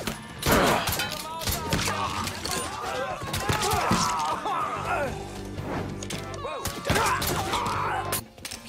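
Gunfire in the video game Mafia III: repeated sharp gunshots and bursts over a busy action mix, close and loud throughout, with a voice talking between shots.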